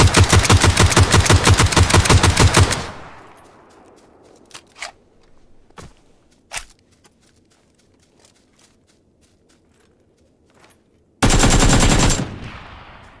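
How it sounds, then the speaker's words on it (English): Two bursts of rapid AK rifle fire in the Xbox game PUBG, one long and one short, separated by quiet stretches of scattered footsteps and small clicks. "that's a good example of using the AK starting off shooting at the body"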